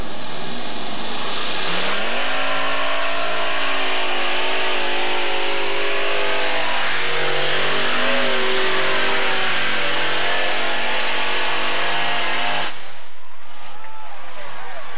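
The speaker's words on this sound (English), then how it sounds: "572 cubic inch Keith Black engine." Unlimited modified pulling tractor with a 572 cubic inch Keith Black engine roaring loudly at a tractor pull, its pitch climbing and wavering through a long sustained run before cutting off abruptly near the end.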